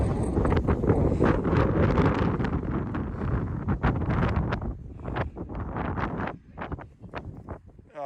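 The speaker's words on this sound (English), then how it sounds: "As you can see, it's pretty windy up here." Strong wind gusts buffet the microphone on a hilltop in Northern NSW, a loud rushing roar that surges and eases without letting up.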